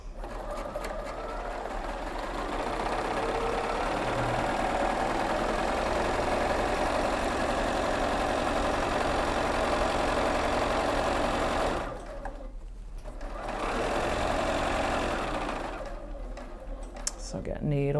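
A sewing machine stitching steadily for about twelve seconds, pausing briefly, then running again in a fast even mechanical whir with a rapid needle rhythm, fairly close.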